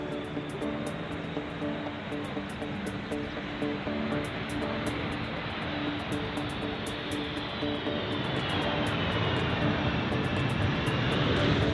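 Steady, loud roar of a U.S. military fixed-wing aircraft engine on a joint Japan-US operation delivering supplies for Ukraine, continuous and sustained with a faint rising whine near the end, no voices.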